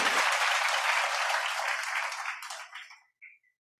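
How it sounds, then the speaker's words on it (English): Applause from an audience at a memorial ceremony honouring a police major general, a full burst of clapping that holds steady, then fades out with a last few scattered claps. "Again, another round of applause to our Honorable Leopoldo Batawil."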